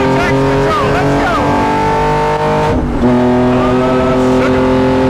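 A straight-piped Lykan Hypersport accelerating on a race track, its loud, raw engine note climbing through revs with a brief dip around a shift, close and dominant throughout.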